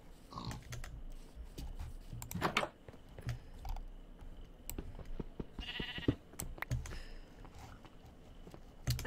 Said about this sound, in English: I just heard a baa of a sheep.